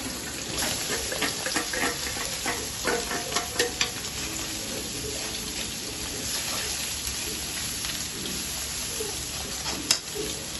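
Spices fry in a pan for a fish bharta, giving a steady close sizzle broken by scraping stirs and a few louder clatters, with rain falling outside.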